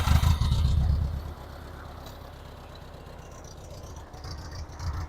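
Ford 2N tractor, about 80 years old, fitted with a 12-volt conversion, cranking and firing with a loud low rumble at first, then settling into a steady, softer idle clatter.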